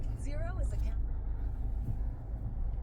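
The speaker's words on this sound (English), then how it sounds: "All right, let's go on the road in the Kia Soul." Kia Soul compact crossover SUV on the road, a steady low rumble of engine and tyre noise from inside the cabin, with a voice talking briefly at the start.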